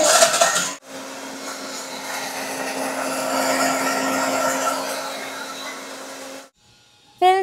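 A kitchen blender grinding carrots into juice runs with a steady, loud whirring roar for several seconds, cutting in after a short burst of activity and stopping abruptly, with a voice briefly heard at the end.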